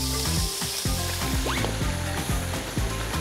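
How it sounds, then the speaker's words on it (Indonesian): Spice paste sautéing in hot oil, a steady close sizzle running throughout with light stirring clinks and a faint background hum. "emak tumis semua bumbunya di minyak panas."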